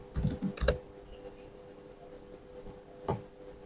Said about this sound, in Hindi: यहाँ पे मैंने टाइप किया है